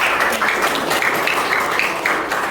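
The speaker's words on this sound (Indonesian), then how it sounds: "Tepuk tangan buat kelompok." Classroom applause for a student group during a lesson, a short burst of fairly close clapping with some distinct individual claps, moderately loud and steady.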